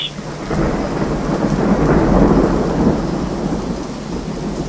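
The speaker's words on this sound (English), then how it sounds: "a storm came. It was raining all of a sudden." Steady heavy rain pours down throughout while deep thunder rumbles and swells in the middle, loud and close, with no voices.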